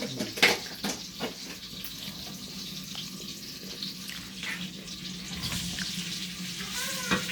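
Onions are added to a pan for a special roast, giving a steady hiss of frying with a few sharp clatters early on, close and moderately loud.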